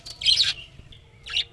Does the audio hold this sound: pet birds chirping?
yes